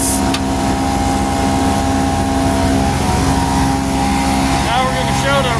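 A pneumatic trailer blower driven off a tractor PTO drones loudly and steadily, a dense engine-like hum with a faint rising whine near the end.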